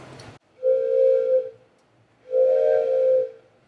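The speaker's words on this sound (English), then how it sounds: "Then the train blows its whistle. It sounds." A steam train whistle sounds twice, two long sustained hooting blasts with a brief gap between them, fairly loud and alone.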